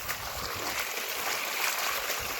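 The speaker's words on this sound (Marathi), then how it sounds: "बिगर लाईटची पाचची मोटर जशी चालू आहे तसे पाणी चालू आहे बघा" Water gushes steadily from a pipe pumped by a 5 HP motor running without electricity, draining a flooded soybean field, heard as a continuous close rushing hiss with no talk.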